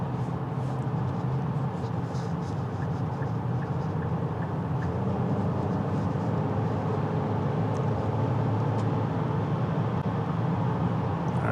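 Steady road and engine noise inside a 2026 Nissan Murano accelerating on a highway, a constant broadband roar with no talk heard.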